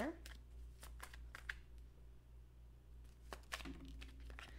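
Tarot cards being shuffled in several quick crackling bursts close by, with a low steady hum underneath and no talking.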